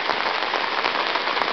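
Steady rain falls outdoors near a pond, shed and diving board, a dense, even hiss of drops with no gaps and no voices.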